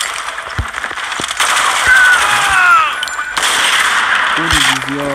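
Gunfire from the video game Modern Combat 4 bursts in short rattling volleys at moderate loudness, mixed with other game effects, while players talk in German.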